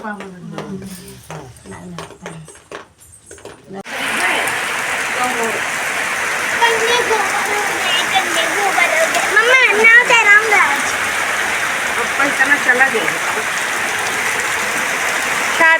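Steady rain pours outdoors from about four seconds on, a dense continuous hiss with spattering drops that holds at an even level to the end, with voices talking over it.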